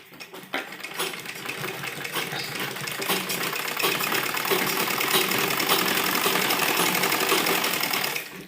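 An electric sewing machine stitches a lined embroidered suit, running steadily and loudly with a rapid mechanical whir after a brief start, then stopping abruptly at the end.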